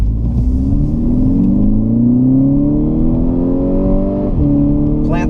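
A Volkswagen MK6 GTI hot hatch pulls hard from a standstill, its engine note climbing steadily through the revs with a brief dip at a shift before rising again, loud and close from inside the car.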